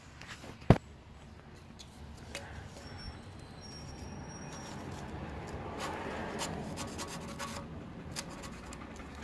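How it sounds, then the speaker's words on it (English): Faint rubbing and scraping as grime is worked off the engine mount area of a 1951 Chevy, with a sharp knock near the start and irregular raspy strokes growing slightly louder, quiet and close. "Trying to scrape some of this grime off so I can see how close it actually is"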